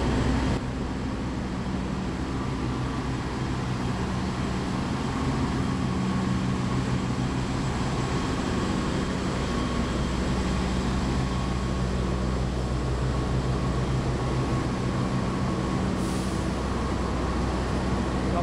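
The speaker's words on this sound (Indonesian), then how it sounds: "lokomotifnya CC 206 1505 Depo Cipinang" The CC 206 diesel locomotive of Depo Cipinang, just coupled to the long 13-car Kertajaya train, gives off a steady, close, heavy engine rumble with broad noise that holds unchanged throughout, with no talk.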